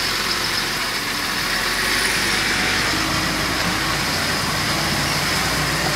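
Loud, steady drone of a truck engine straining up a steep hill road in São Francisco Badaró, Minas Gerais, Brazil, a continuous broadband rumble that holds constant for several seconds with no voices.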